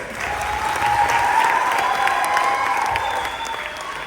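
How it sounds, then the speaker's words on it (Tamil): An audience at a dance school performance in a Jaffna cultural centre breaks into sustained applause, a thick, even wash of many hands clapping that swells slightly midway and holds for about four seconds. "எங்கே உங்கள் கரகோஷங்கள்?"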